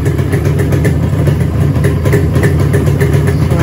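A car engine idles steadily near the microphone with an ignition coil upgrade fitted, a continuous mid-low hum running unbroken and without voices throughout.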